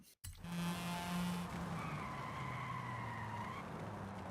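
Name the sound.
car tires skidding after brakes lock up in racing video game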